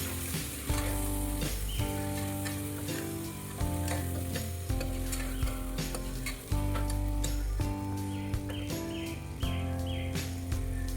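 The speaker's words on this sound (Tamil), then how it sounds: "அது இஞ்சி பூண்டு போட்டதுக்கப்புறமா தக்காளி வந்து நான் சேர்த்துட்டு வதக்குறேன்." Tomatoes sauté in a pan after ginger and garlic have gone in. A loud, steady sizzle and crackle runs nonstop with occasional stirring scrapes, close up and with no speech.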